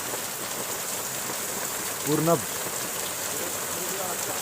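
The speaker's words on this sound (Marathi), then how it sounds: "पावसाचा आवाज येतच असत मजबूत पाऊस लागताय" Dense, steady hiss of heavy rain pouring throughout, with a short burst of speech rising briefly over it midway.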